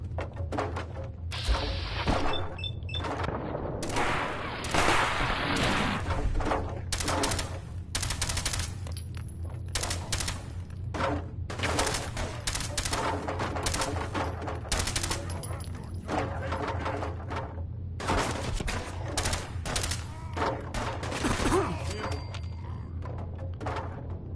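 Super mutants fire weapons in Fallout 4, loud bursts of automatic gunfire and single shots rattling almost nonstop for the whole stretch, with thuds mixed in.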